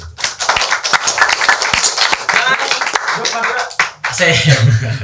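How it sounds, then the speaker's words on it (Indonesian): An audience at a Q&A session at the Lirboyo Islamic boarding school in Kediri bursts into dense clapping, loud and close for several seconds, briefly dipping near the end before resuming, with voices mixed in. "Tepuk tangan buat NU."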